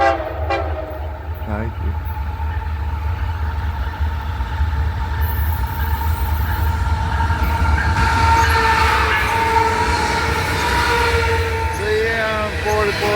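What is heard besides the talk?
CP locomotives hauling a coal train with horn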